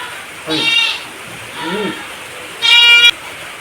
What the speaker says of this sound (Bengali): আগে ছাগলটা নিয়ে আসুক ছাগল আনতে যাচ্ছিস